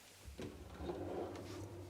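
A kitchen drawer in a tiny house is pulled out all the way, a quiet rolling slide with soft rumbling from the runners and a faint thump near the start, alone without talk.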